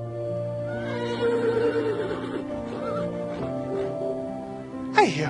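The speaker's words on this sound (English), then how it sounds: "I hear horses. They don't sound far off." Horses neigh and whinny in the horror video game Mad Father, a drawn-out wavering call followed by a sharper sudden cry near the end, fairly close and loud over a sustained droning background.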